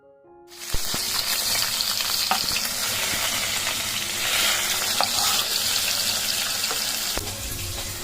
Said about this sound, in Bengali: হালকা ভাজবো, খুব কড়া ভাজবো না, আবার একদম কম ভাজবো না, মোটামুটি ভাজবো।